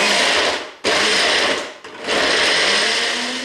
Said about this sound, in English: I'm going to blend these ingredients together until these are smooth and form a puree